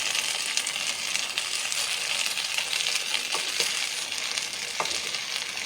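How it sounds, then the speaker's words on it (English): Potatoes with onion powder, black pepper and white pepper are stirred in a frying pan for an omelette, giving a soft continuous sizzle with occasional light scrapes and clicks of the utensil, close and unaccompanied by speech. "when I'm stirring, I'm making sure not to break the potatoes"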